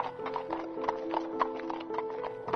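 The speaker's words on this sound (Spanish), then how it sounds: "Dibujó un caballo y se marchó en plena noche." A horse gallops at night in a storybook tale, with rapid rhythmic hoofbeats over a soft musical background and a brief whinny, steady and moderately close.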